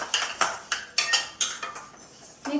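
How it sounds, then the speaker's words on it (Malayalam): Horse gram being dry-roasted in a pan and stirred with a spatula: repeated rhythmic scraping strokes with grainy rattling, close and fairly loud, no talking. "ഇതാ നന്നായിട്ട് നമുക്ക് മുതിര ഇതേപോലെ ഒന്ന് വറുത്തെടുക്കാം"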